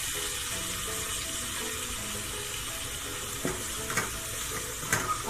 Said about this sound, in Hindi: इसे अच्छी तरह भूनेंगे, आँच को कम कर देंगे।